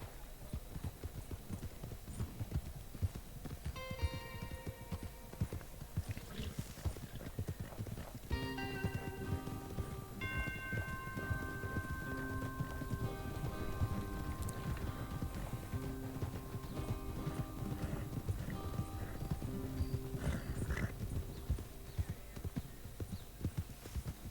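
Horses galloping in Red Dead Redemption 2, with steady rapid hoofbeats carrying on throughout, occasional whinnies and snorts rising above, and a tonal music bed running underneath.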